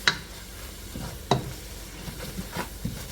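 Onions, carrot and celery cook in a soup pot for chicken and dumplings, giving a quiet, soft sizzle broken by a few sharp stirring clinks and scrapes, spaced irregularly over a few seconds.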